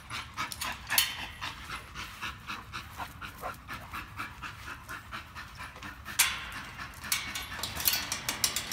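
A dog pants rapidly and steadily in a kennel, close and fairly quiet, with a few brief knocks and rustles mixed in.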